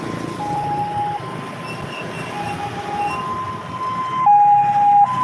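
An ambulance siren wails with a steady tone that steps up and down in pitch, passing over a constant rumble of traffic at the Simpang Patal Pusri underpass in Palembang.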